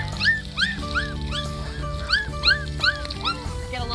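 Several puppies whimper and yip in a rapid overlapping chorus of short, high-pitched cries, close and fairly loud above a low background murmur.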